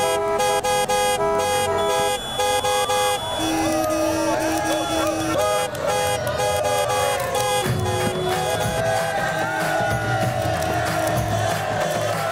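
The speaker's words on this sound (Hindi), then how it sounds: "हॉर्न बजाओ, हॉर्न बजाओ, नहीं तो ये भीड़ नहीं हटने वाली।" Car horns honk repeatedly to clear a dense street crowd, the toots cutting through loud cheering, whooping and general crowd noise, with voices talking throughout.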